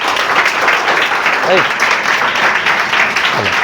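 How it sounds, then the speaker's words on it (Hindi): Continuous loud applause from a crowd, dense clapping filling the whole stretch with a few faint voices mixed in. "एक बार जोरदार ताली लगाओ तो।"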